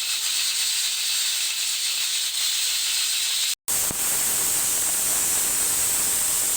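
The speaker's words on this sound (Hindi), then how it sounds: "तो जी कुकर को बंद कर देते हैं और इसको पकने देते हैं।" A pressure cooker steams chicken for shami kabab with a loud, continuous hiss that holds steady, cuts out for a moment partway through, then resumes just as strongly.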